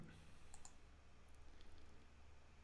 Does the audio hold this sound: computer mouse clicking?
yes